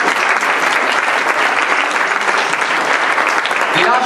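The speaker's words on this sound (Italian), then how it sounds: "vi chiedo di fare un grandissimo applauso" An audience at the opening of a political party convention in Rome breaks into sustained, loud applause, dense clapping filling the room steadily throughout with no pause.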